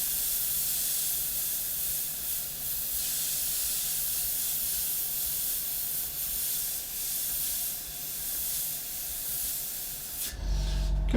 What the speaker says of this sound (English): we're just going to spray this around